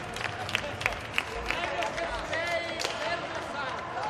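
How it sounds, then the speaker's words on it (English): A crowd at an inline hockey match between Switzerland and Italy stands and claps, a broad roar of applause with scattered sharp bangs from the rink, while a commentator talks over it. "And they're standing and clapping."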